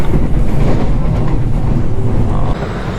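Train arriving at a station in South Korea, a loud continuous rumbling with rhythmic wheel clatter that eases slightly toward the end, with no talk.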